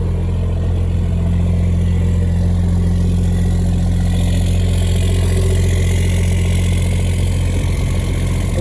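Cummins diesel truck engine with a newly installed 4-inch exhaust idles steadily up close, a loud, deep, constant rumble with a low throbbing drone and no change in pace.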